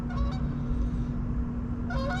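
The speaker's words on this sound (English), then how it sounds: "that goose wanted to come say hey, flying pretty low" A goose flying low overhead an abandoned Walmart roof honks in short bursts at the start and end, loud and near, above a constant low hum.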